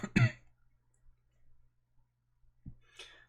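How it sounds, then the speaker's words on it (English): A single sharp cough up close, followed by a quiet pause, then a brief breathy throat sound near the end. "I had this really weird cough the past couple nights."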